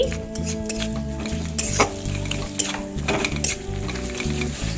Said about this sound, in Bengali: নেড়ে নিচ্ছি ভালো করে সব কিছু।